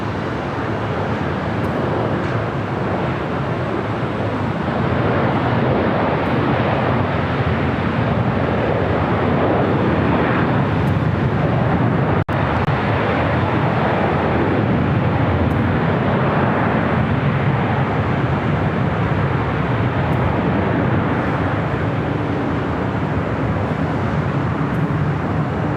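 A UPS Boeing 767 arriving at Los Angeles LAX airport makes a steady, loud, broadband roar that holds without a break for the whole stretch, with a wind-like rush mixed in.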